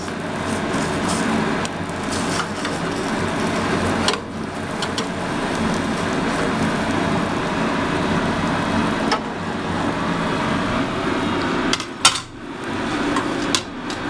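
A knife cuts a fried egg into square pieces, with repeated sharp taps and knocks of the blade on a board over a steady background hum, close and fairly loud, with one heavier clack near the end.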